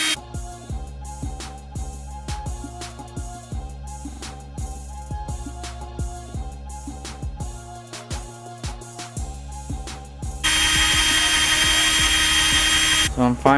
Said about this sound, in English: So I'm finally done drilling it out.